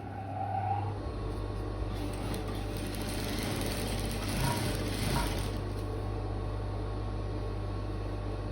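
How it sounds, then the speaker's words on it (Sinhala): Sewing machine stitching darts on a party dress, a steady mechanical whir and rapid clatter running continuously, close and alone without speech. "දැන් මේ ඩාට්ස් දෙක අපි මහගමු."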